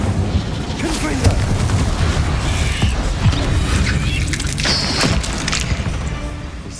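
Fiery Confringo and Incendio spell blasts in the video game Hogwarts Legacy: a dense, continuous barrage of booming explosions and crashing impacts that stays loud and rumbling throughout.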